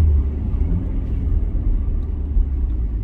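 A manual C7 Corvette accelerating on a test drive, a loud continuous low engine rumble heard from inside the car, steady and without talk.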